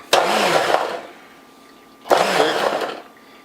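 A kitchen blender pulses chopped okra for stew in two separate bursts of about a second each, each whirring up loud and close and then dying away, with a short quiet gap between them.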